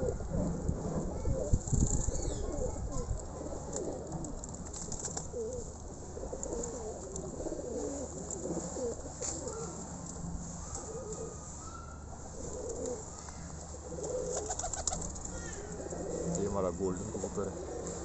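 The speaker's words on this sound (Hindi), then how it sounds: "माशाल्लाह सारे कबूतर एक्टिव हैं।" Pigeons coo continuously in low murmuring phrases, layered among several birds close by, with someone talking over them at times.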